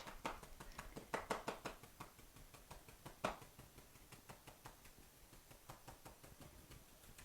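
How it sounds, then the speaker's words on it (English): Paint brush flogging a surface with quick repeated slaps while moving upward for a faux wood finish, a rhythmic series of soft close taps and brushy hits, fairly faint, with no talk. "We're just going to hit the brush while we move up, just like so"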